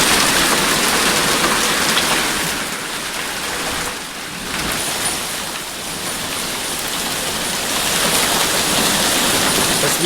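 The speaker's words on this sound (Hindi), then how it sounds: "किस तरह से कहीं ओले गिर रहे हैं तो कहीं बारिश पड़ रही है" Steady rain pours down in Almora, Uttarakhand, with hailstones falling among it, a dense continuous hiss of water striking surfaces that dips briefly and swells again, with no voices.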